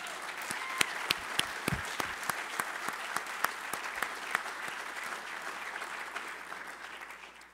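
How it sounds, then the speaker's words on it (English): An audience at an awards program breaks into steady applause, with many hands clapping in a dense, sustained burst and sharp individual claps standing out, gradually easing toward the end. "Please give them a round of applause."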